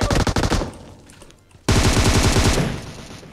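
In PUBG Mobile, a Beryl M762 assault rifle fires at close range: a rapid burst of shots, a brief pause, then a long, loud sustained stream of automatic fire.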